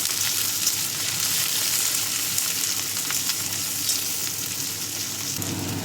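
Onions and green chillies fry in hot mustard oil, giving a loud, constant, close sizzle with faint stirring noises and no talk.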